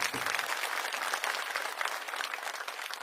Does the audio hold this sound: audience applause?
yes